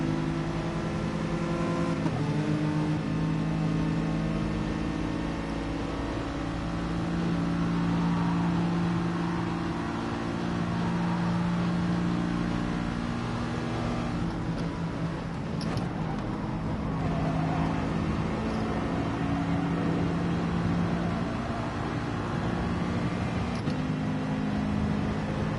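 A Corvette race car engine in Gran Turismo Sport drones steadily at high revs through a lap, a sustained buzzing tone with brief dips and climbs as it shifts, continuous and unvoiced.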